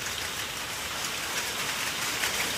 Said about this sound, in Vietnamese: Trận mưa đá quá to